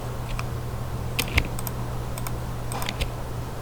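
Computer keyboard keys pressed while working in Photoshop, a scattering of crisp individual clicks in small clusters over a steady low electrical hum, close and fairly quiet.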